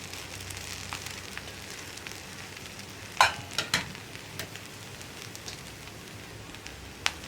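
Raw banana and cowpea thoran fries in a pan with a low, steady sizzle while a spatula spreads and stirs it, adding a few sharp scraping clicks near the middle and end, close by with no talk.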